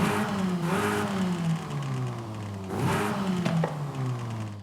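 A stock 1.6-litre inline engine in a 2021 Mini JCW GP in Forza Horizon 5 revs up twice, each rising whine climbing in pitch before dropping back, loud and close with no talk.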